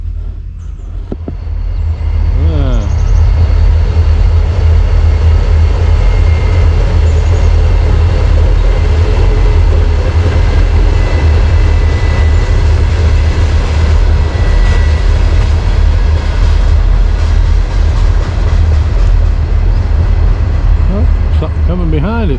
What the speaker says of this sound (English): I believe I hear one last train coming before we go.